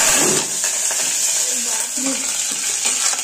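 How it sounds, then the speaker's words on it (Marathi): Cumin and mustard seeds crackle and sizzle steadily in hot oil for a kadhi tempering, a close, continuous frying hiss with faint stirring and no speech. "ह्याच्यात आपण जिऱ्याची आणि मोहरीची फोडणी देऊन घेऊया कढीसाठी"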